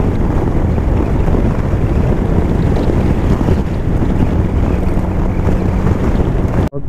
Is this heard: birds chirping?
no